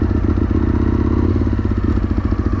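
An Aprilia RSV Mille motorcycle engine catches and settles into a loud, close, steady idle with a lumpy, pulsing beat and some mechanical clatter, and no voices over it.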